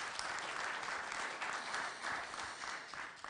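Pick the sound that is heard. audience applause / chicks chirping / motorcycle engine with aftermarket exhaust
audience applause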